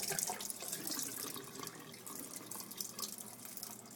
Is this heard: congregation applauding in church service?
no